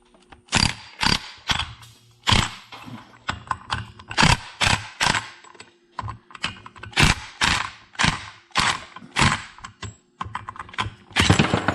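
A ratchet with a 1.5 inch socket works a nut on a Can-Am DS90X ATV, giving close, rapid bursts of clicking in an uneven rhythm, each burst separated by short pauses.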